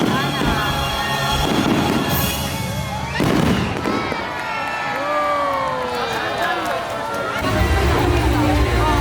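Fireworks at the Enchanted Kingdom amusement park pop and boom in loud, repeated bursts, with a heavier blast midway, over steady crowd chatter and voices nearby.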